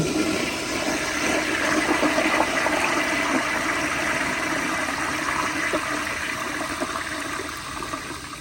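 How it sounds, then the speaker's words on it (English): A 1951 Crane Santon toilet with a large tank flushes with a loud, steady rush of water that swirls and roars evenly for several seconds without easing off, no voices present. "But yeah, here's another flush."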